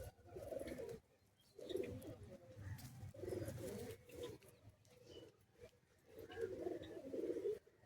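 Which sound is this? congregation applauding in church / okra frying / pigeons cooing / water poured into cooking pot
pigeons cooing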